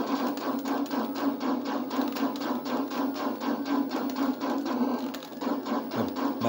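Rapid-fire shooting in the ColecoVision game It's Raining with the fire button held down: a fast, steady train of clicky electronic pulses over a buzzing tone, moderately quiet, with no voices.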